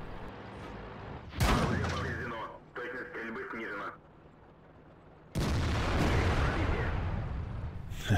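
An IS-6 heavy tank's main gun firing in the video game World of Tanks: two loud, sudden booming blasts with rumbling tails, separated by a stretch where someone talks over the game.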